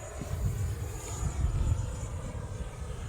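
A Viper Jet RC model with a 90mm electric ducted fan flies at full throttle, a steady airborne fan roar heard at some distance that swells slightly and then eases.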